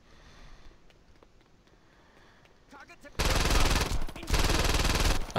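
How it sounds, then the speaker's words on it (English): Heavy, rapid gunfire in Saints Row 2 erupts suddenly after a quieter stretch with a voice, then continues in loud, dense bursts with a short dip partway through. "I fired so many shots, I missed all of them."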